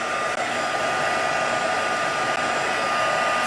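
Heat tool blowing steadily on paper to dry a wet ink splat in a crafting session, a loud continuous close airy whir with a faint high whine and no talking.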